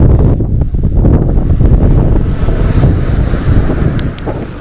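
Sea waves wash onto a UK beach near the water's edge with wet sand, a loud, continuous roar heavily buffeted by wind across the microphone, without a break and with no voices.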